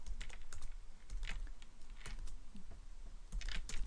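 Rapid, uneven keystrokes on a computer keyboard while script code is typed, clattering steadily at close range with short pauses between bursts of clicks and no voices.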